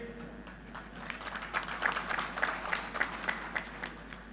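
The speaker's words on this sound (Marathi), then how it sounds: "ज्यांच्या आगमनामुळं आपण सर्वांनी खूप जोरदार टाळ्या वाजवल्या" A crowd applauds loudly at a political rally in Shirur, dense clapping swelling after the first second and staying steady, with crowd noise mixed in.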